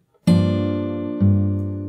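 A low bass note plucked on an acoustic guitar from a fingerstyle song arrangement rings out alone, then is plucked again about a second later, each attack clear and close with a slowly fading sustain.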